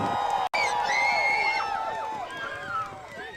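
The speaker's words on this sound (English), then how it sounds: "Give him a round of applause" A crowd at a Santa Claus parade in Port Huron cheers and whoops, with high shouting voices and children's cries rising and falling over a steady outdoor crowd murmur.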